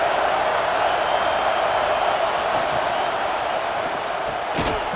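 Video-game stadium crowd at Neyland Stadium in College Football 26, Arkansas State at Tennessee, a dense steady roar filling the whole stretch on a third down, loud and continuous with a brief sharper burst near the end.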